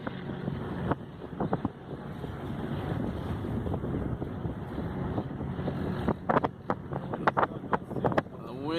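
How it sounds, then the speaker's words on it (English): Steady wind noise roars across the microphone aboard a sailboat under way, with gusts and buffeting throughout and a few brief voices breaking through near the end. "The wind is coming in really good today."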